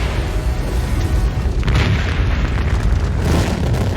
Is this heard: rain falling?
no